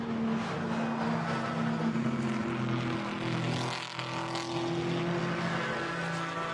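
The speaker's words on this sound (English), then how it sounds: "That Camaro does sound fantastic." A Chevrolet Camaro V8 race car in a GT4 European Series race at Zandvoort gives a loud, continuous engine drone with strong harmonics that dips briefly midway, then carries on.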